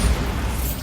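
A Bombarda spell explosion in Hogwarts Legacy: a single loud, deep booming burst lasting under a second, with no voices.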